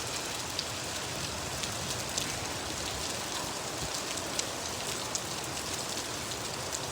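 Steady rain mixed with small hailstones patters down outdoors for about twenty minutes' worth of storm, a dense continuous hiss with scattered sharper ticks of pellets striking surfaces, no voices present.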